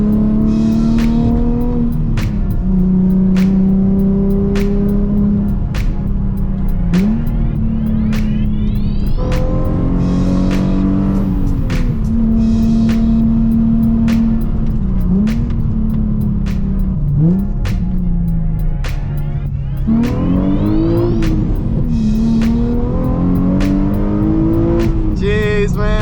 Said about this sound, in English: We're back here once again in my 2007 Nissan 350z HR.